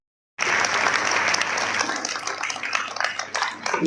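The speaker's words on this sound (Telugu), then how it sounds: "చిన్నారి చప్పట్లు కొట్టాలి" An audience at a public ceremony applauds a child gold medalist in state and national skipping, steady close clapping that starts abruptly and carries on throughout.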